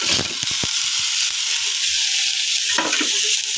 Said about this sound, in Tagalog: sangkutsa na natin yung bawang, sibuyas at luya